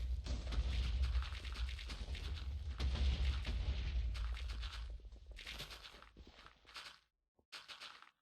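Booming, rumbling video game explosions roll continuously with heavy low-end thuds, then cut off abruptly before a short final burst.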